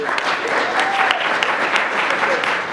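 A crowd at a town council meet-the-candidates night applauds a named candidate, with dense continuous clapping filling the room at an even, fairly loud level throughout.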